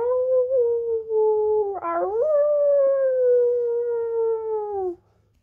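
Wolf howling in the countryside: a single long, sustained howl that rises, holds steady for several seconds and slowly falls, clear and fairly close, heard alone with no talk.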